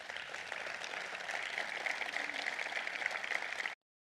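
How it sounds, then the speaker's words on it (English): Steady, dense clapping from a crowd, an organized round of applause sustained evenly at moderate loudness before cutting off abruptly. "an organized clap."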